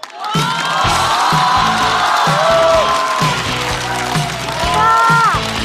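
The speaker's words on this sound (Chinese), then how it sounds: "掌声欢迎" A live stand-up comedy audience claps and cheers as the next comedian is welcomed onstage, dense continuous applause with whoops filling the room, loud and close, with a host's voice briefly over it.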